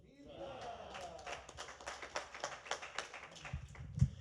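Audience clapping at a university research reveal event, scattered crisp claps building into moderate applause, faint and roomy, with a louder thump near the end.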